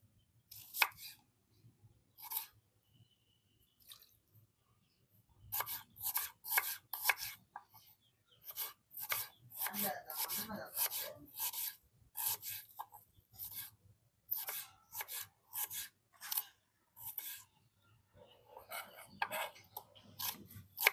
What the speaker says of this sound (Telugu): ఉల్లిపాయలు కోసుకుందాం.